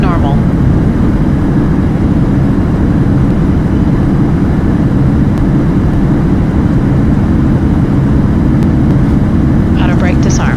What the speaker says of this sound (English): Speed brake up. Reversers normal.